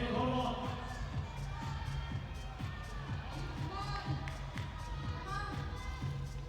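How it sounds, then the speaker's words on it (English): Crowd murmuring and reacting at a men's bouldering semi-final of a climbing world championship in Hachioji, a dense steady roar of many voices with scattered taps, with talk running over it throughout. "you might have heard the reaction of the crowd"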